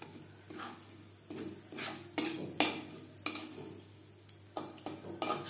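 A spoon scrapes a pan of browned milk cream being cooked down into ghee, pushing it aside in a series of irregular, close scrapes and clinks over a faint background sizzle.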